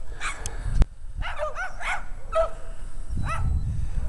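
Dogs across the street yip and bark in short, excited bursts with a whimper, fairly close and moderately loud, against outdoor background noise on a snowy day.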